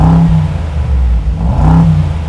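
A Brabus G800 with a V8 biturbo engine, switched into its louder exhaust mode, revs hard twice, rising and falling in a deep, booming growl that stays loud and close throughout.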